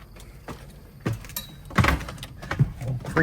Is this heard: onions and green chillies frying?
no